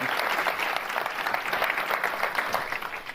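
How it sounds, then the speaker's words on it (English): Steady round of applause from an audience at a philanthropy event, dense even clapping sustained throughout at moderate loudness with no voices over it. "That does deserve a round of applause."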